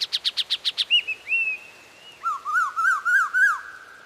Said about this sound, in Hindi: परिंदे चहचहा रहे थे।